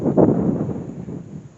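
Warm afternoon wind buffets an outdoor microphone beside a 1914 stone arch bridge over Grouse Creek, a broad low rumble strongest at first and easing off, with no voices.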